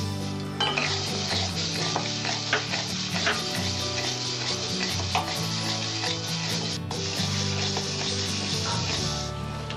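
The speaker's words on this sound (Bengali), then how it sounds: "আমার কড়াইটা গরম হয়েছে, এবার আমি ডালটা ভাজবো।" Lentils fry in a hot wok for a wedding-style Bengali vegetable dal, giving a loud, continuous sizzle. Stirring scrapes and light metal clinks break through now and then, and no one speaks.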